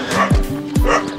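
A dog on a rural walking route toward Santa Rosa de Puquio lets out two loud, close barks about half a second apart, each dropping into a short yelp.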